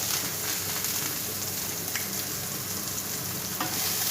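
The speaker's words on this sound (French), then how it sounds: "je fais revenir mes échalotes, je rajoute un tout petit peu d'huile d'olive" Shallots fry in olive oil in a pan with a steady, close sizzle and faint crackle throughout, a couple of light clicks from stirring rising above the hiss.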